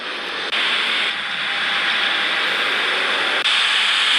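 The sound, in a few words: jet airliner engine in air traffic controller video game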